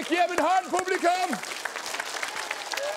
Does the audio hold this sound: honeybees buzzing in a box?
no